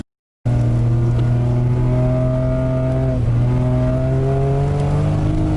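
A drift car's engine revs hard and steadily on an ice track at a winter drift competition, its pitch holding high then briefly dipping and climbing again, loud and close with no talk.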